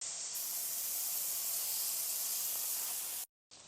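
A butter spray can hisses in one long, close, loud burst over chicken burgers frying in a pan, then cuts off abruptly, and a fresh hiss starts right after.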